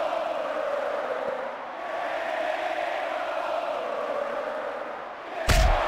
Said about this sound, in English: do you hear that crowd?